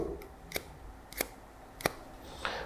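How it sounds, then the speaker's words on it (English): Scissors snip through long curly hair during a haircut, four crisp, close cuts spaced evenly about half a second apart, with no talking. "So I'm going to pull this straight out and cut on that angle there like that."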